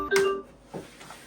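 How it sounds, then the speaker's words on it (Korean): A smart door lock sends an open-door alert to a phone: a short electronic beep-tone chime, fairly quiet, with a fainter second tone just after. "그럼 이렇게 알림이 와요."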